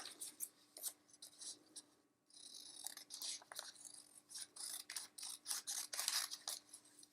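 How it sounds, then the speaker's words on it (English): Scissors slowly snipping along a printed line on a paper house cutout, faint close crisp cuts repeating in short irregular bursts with a brief pause, in a quiet room without talking. "all you have to do is very carefully cut along this line on the outside of the house"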